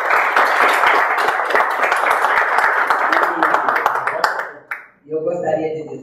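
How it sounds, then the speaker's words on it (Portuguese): An audience claps in a sustained round of applause for a minister at a formal address, a dense continuous crackle that breaks off abruptly near the end, after which a voice speaks. "Eu gostaria de uma salva de palmas aqui ao ministro."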